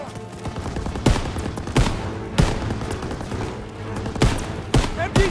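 Rapid bursts of gunfire from a Call of Duty: WWII battle on Hill 493, with sharp loud volleys landing about every half second to a second over a constant rumbling battlefield din, while voices shout through the action.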